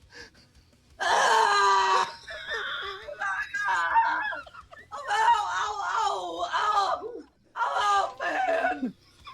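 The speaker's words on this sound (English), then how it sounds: "Ricky instantly regrets his decision and screams to high heaven." A man screams in pain after stabbing his leg: loud, strained, ragged wails in several long bursts with short gaps, close and raw, with no separate talk.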